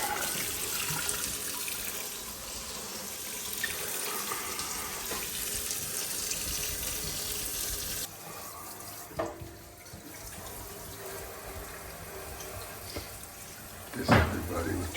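Running water rinsing a stainless steel sink after a remodel, a steady close hiss of the faucet stream that shifts partway through, with a clunk near the end and some faint talking.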